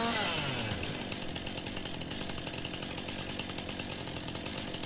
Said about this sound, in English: So we get the chainsaw back in.